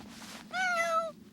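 An anime cat gives a single clear, fairly loud meow, a short rising-and-falling cry over faint background ambience.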